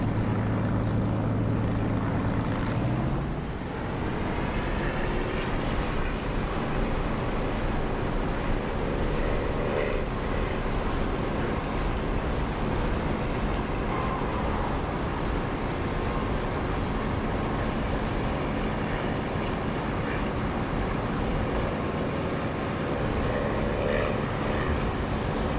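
Aircraft engine in the DCS flight simulator throttling up for takeoff, a loud steady propeller-like drone that rises in pitch after a few seconds and then holds constant and dense throughout, with no talking.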